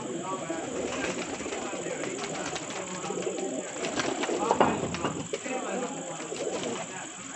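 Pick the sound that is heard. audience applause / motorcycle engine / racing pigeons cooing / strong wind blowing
racing pigeons cooing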